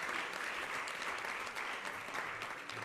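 During the ISKCON New York fundraiser, a temple audience applauds a donating family: a dense, even patter of many clapping hands, fairly quiet and continuous throughout, with no speech.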